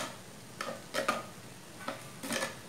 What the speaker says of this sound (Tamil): மணத்தக்காளி கீரை வந்து நல்லா வெந்துட்டு தேங்காயும் சீரகம் சேர்த்த விழுதை வந்து இப்போ அதில் சேர்க்குறேன் நான்